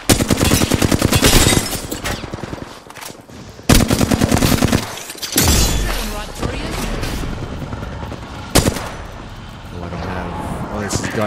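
Video game gunfire rips out in long, rapid automatic bursts, loud and close, separated by short pauses, while someone talks over the shooting.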